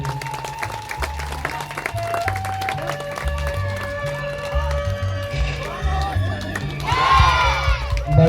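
A crowd at an outdoor school parents' gathering claps and cheers for a human pyramid display, with scattered shouts over a steady wash of applause and music playing underneath.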